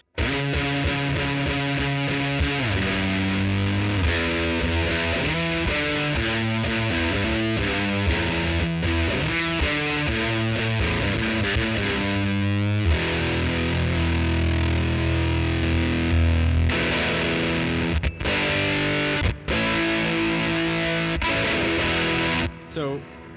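Electric guitar driven through a JHS Kilt fuzz pedal with the gain cranked, thick saturated chords and sustained notes ringing loud and close, with a brief pause and a final stab near the end.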